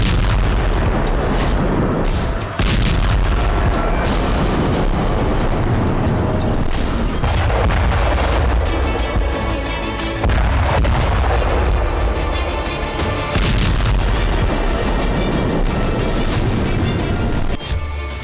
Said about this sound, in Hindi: बारूद से भरी बोट्स जैसे ही युद्धपोत से टकराई, जोरदार विस्फोट के साथ आग की लपटें